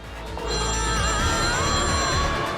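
A telephone rings on and on, unanswered: a bright, steady electronic ring, close and fairly loud, with no voices over it.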